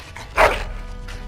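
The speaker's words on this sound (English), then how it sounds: "Bloody dog." A dog gives a single sharp, close bark in the video game Dragon Age: Origins, loud against quiet background ambience.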